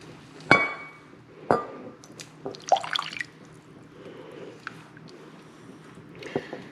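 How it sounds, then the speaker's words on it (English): Liquid is taken from a slow cooker crock pot of corned beef during cooking, with a few sharp clinks and drips of utensil against crock spread apart and splashing in between. "I think I need to get some of this liquid out."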